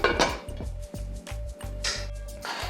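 A metal lid settles onto a pot of simmering chicken soup in a home kitchen, giving several close, sharp clanks and clinks in an uneven rhythm, with no voices.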